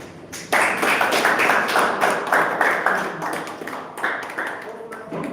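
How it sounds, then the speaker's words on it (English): A Toastmasters club audience gives a round of applause for Toastmaster Hitesh before his speech, a steady burst of clapping and taps lasting several seconds with a few voices mixed in. "with a round of applause"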